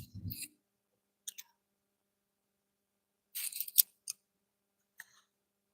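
A fishing hook is drawn across a hook sharpener in a few short, sparse, scratchy strokes, mostly in quiet, with a brief low vocal sound at the start.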